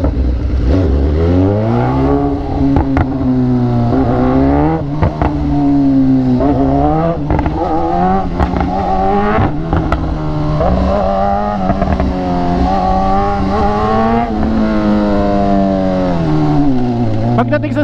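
A BMW S1000R motorcycle's engine and exhaust drone continuously during a ride, loud and close, with pitch rising and falling through gear changes and bursts of revving, under a rider's voice.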